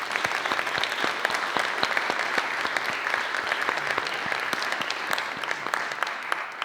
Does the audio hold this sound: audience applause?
yes